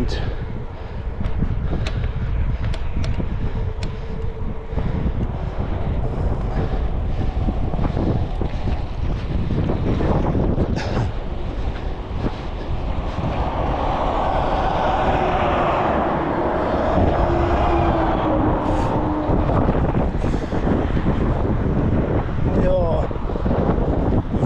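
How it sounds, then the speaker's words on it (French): Strong wind buffeting the microphone while cycling uphill through the Algerian Sahara near Aïn Témouchent, a continuous roaring rumble throughout with no clear speech. "Vent, sable"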